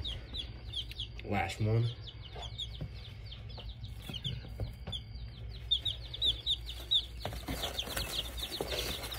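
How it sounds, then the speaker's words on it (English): Rhode Island Red chicks peep in a cluster of rapid, high, thin chirps that come in scattered bursts throughout, close by, with someone speaking briefly and some soft handling noise underneath. "All right, all the chicks are in here."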